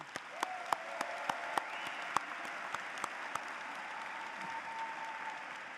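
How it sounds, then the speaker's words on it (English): Scattered clapping from a college commencement ceremony audience, sharp individual claps spaced irregularly over a soft background hum, fairly distant and thin. "Please join me in applauding these special guests."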